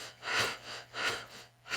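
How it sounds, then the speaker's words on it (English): Deep, slow breaths in and out during a calming breathing exercise, three broad airy swells at an even, unhurried rhythm, close and fairly quiet, with no talking. "I'm just breathing in and out."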